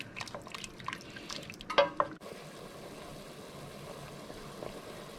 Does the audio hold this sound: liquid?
yes